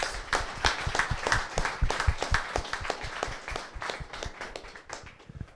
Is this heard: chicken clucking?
no